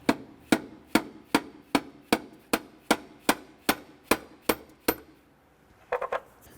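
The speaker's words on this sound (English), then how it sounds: "We're going to use our mallet to gently tap our throttle body loose." A mallet gently tapping loose the throttle body on a 2008-2012 Honda Accord during intake manifold replacement, about a dozen evenly spaced sharp knocks, then a few quicker faint taps.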